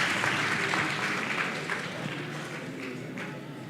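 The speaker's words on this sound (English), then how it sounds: "If your table did not win anything, a round of applause for yourselves." Audience applause at a youth pre-conference event, a steady wash of clapping from a room of people, moderately distant and sustained without pause.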